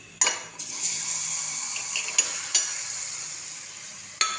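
Ripe banana pieces dropped into hot oil with asafoetida, cinnamon and cloves, a sharp sizzle flaring and then settling into a steady hiss, with clinks of a metal spoon against the pan, close up.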